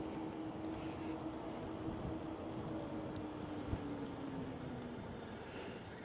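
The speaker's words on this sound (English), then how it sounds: "It's a little breezy today" Wind buffets the microphone on a Velotric Discover 2 e-bike ride outdoors, a constant low roar with a faint steady hum underneath.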